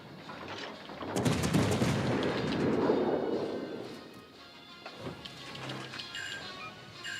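A battleship's main gun volley in a naval video game, a loud booming salvo that swells and rolls for a few seconds before fading into lighter mechanical game sounds.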